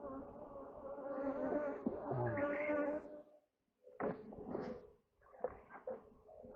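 Honey bees buzz around an opened hive during an inspection, close bursts of droning hum that break off into brief silences and then resume in shorter patches.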